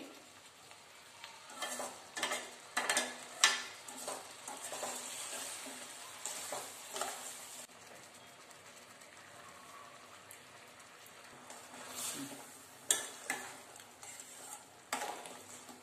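Sugar syrup with gooseberries cooking over a flame and being stirred, a soft steady bubbling sizzle broken by faint scrapes and clinks of the spoon, with no talking.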